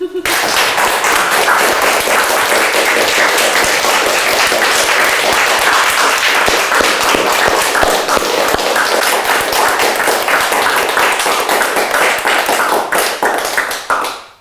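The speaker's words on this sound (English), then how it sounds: "Now put your hands together and give me a big clap." An audience claps together loudly and continuously for about fourteen seconds, a dense close roar of hands that tapers off at the end.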